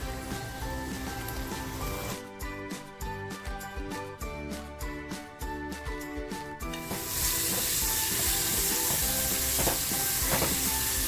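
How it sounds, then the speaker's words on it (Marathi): Cluster beans dropped into a hot pan with salt and homemade spice masala on a low flame give off steady frying sizzle under background music, rising to a louder, fuller hiss partway through. "आणि आता जी गवारी घेतली होती ना ती गवारी टाकते"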